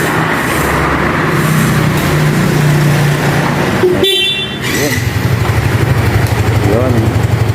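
A 2023 Yamaha Mio i 125 Standard fuel-injected scooter runs close by with a steady engine hum, cut by a brief high chirp partway through, while people talk nearby.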